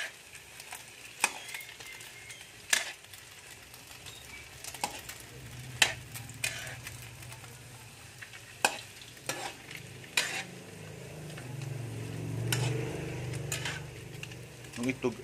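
Steady frying sizzle of hotdogs in a pan with repeated sharp clinks and scrapes of a utensil stirring, close by, with a brief murmur of talk.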